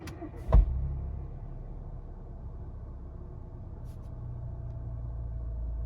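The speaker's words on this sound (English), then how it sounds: "now I'm going to put my foot on the brake and start the car." A VW Golf MK7 engine cranks with a brief sharp burst and catches, then settles into a steady low idle rumble heard close from inside the car, with no talking.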